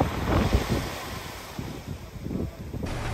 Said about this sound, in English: We've come now to the beach at Bunker Bay.